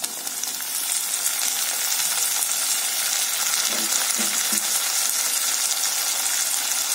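Chopped tomato frying with softened onions in a pan for bottle gourd sambar, giving a loud continuous sizzle with a few soft stirring scrapes midway.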